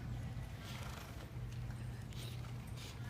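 A horse walks in an arena, its hooves clip-clopping faintly under steady wind or background rumble.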